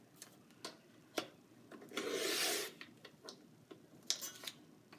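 Scissors or a paper trimmer slide through a 1-inch paper strip cut from patterned scrapbook paper, a short soft rasping swipe amid scattered light ticks and clicks, quiet and close.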